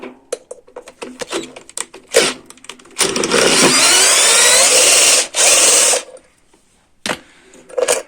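A power drill or powered driver works on a part of an IZh Planeta 6-volt motorcycle, with a loud close whirring burst of about two seconds, a short pause, another burst, then scattered clicks and tool handling.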